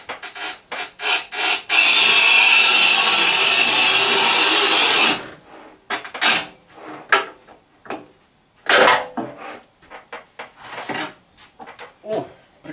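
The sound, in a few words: manual tile cutter with 8 mm wheel cutting a tile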